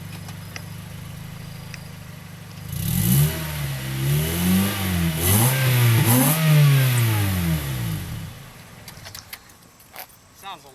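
A Honda Civic with a new exhaust idles close by, then revs up and down several times in rising and falling sweeps before settling back to a low idle, with some talk around it.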